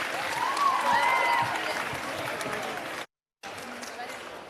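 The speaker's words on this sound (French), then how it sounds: "j'aimerais un tonnerre d'applaudissements pour Redress" Applause from a crowd at a tech event stage presentation, steady clapping with a voice and some cheering over it, cut by a brief dropout near the end before the clapping resumes.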